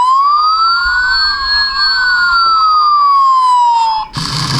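A small toy RC fire engine truck plays an electronic siren, a loud, close wail that sweeps slowly up and then down in pitch before cutting off abruptly into a burst of noise.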